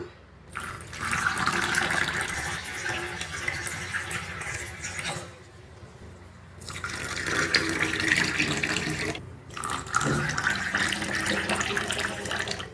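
Chilled water from a clay pot pours steadily into a container in two long streams separated by short pauses, a close, splashing gush, while making lemon juice.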